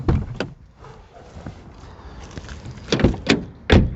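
The front door of a 2003 Hyundai Accent 1.5 CRDi clunks open with a couple of sharp latch clicks and thuds, close by, with no talking.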